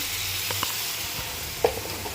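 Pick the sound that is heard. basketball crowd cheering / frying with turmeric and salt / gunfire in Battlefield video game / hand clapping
frying with turmeric and salt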